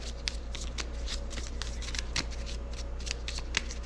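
A deck of enemy submarine cards from the naval board game Spruance Leader is shuffled by hand, giving a steady, close riffling flutter with faint repeated snaps.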